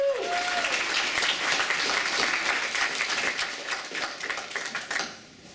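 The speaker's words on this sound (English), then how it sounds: "give him a round of applause." A dense burst of audience applause at a City of Heroes player summit, many hands clapping steadily before thinning out and fading near the end.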